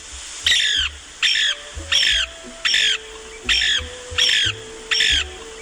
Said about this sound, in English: Its chirring calls, often heard in mating season.